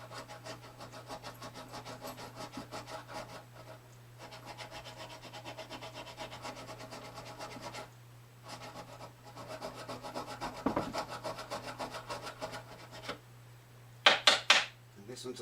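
Steady rhythmic rubbing and filing strokes on the frets of a Martin D15 acoustic guitar, a close, dry scraping that pauses briefly a few times, ending in a few sharper metallic taps.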